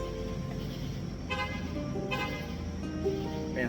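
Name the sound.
car horn honking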